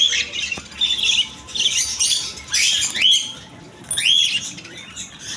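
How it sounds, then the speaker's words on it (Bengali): Albino cockatiels in an aquarium and bird shop screech and squawk in loud, shrill bursts spaced a second or so apart, close at hand with no speech. "অ্যালবিনো ককাটির পাখি আছে"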